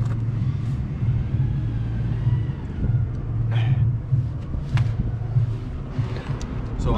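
A lowered vintage VW bus engine runs with a steady low rumble and rises in revs, heard up close with some wind buffeting over the microphone.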